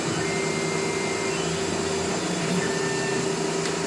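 CNC machine slowly feeding into material, a continuous even machine drone with a steady tonal hum, unbroken throughout and moderately loud.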